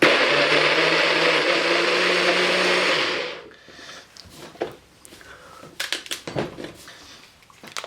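A kitchen blender pulses onions, peppers, red wine vinegar and lemon juice for peri peri sauce, roaring loud and steady for about three seconds before cutting off, followed by scattered soft clatter and knocks.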